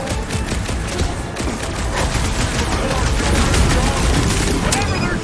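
Enemy energy weapons fire in a chaotic Guardians of the Galaxy battle, a dense continuous clatter of shots and impacts under combat noise with voices speaking.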